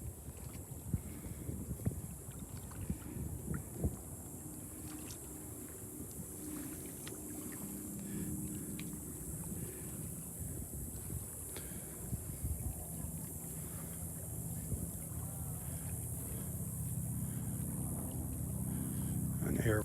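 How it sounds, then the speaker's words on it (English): Boats pass offshore near a beach at Delnor-Wiggins, a low engine drone under wind noise and faint distant traffic that slowly swells louder toward the end. "some boats."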